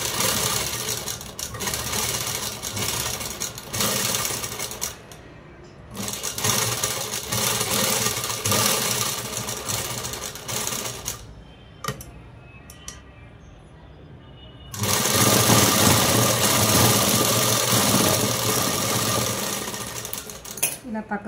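Sewing machine stitching a blouse sleeve with a hands design, running in bursts of fast mechanical whirring separated by pauses with brief clicks, close and fairly loud.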